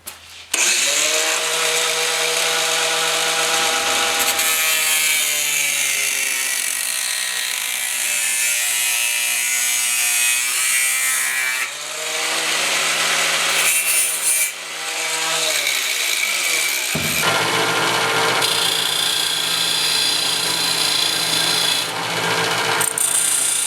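A power saw cuts through wooden trim for a bathroom vanity backsplash, loud whining bursts with pauses between cuts, close up and without talk.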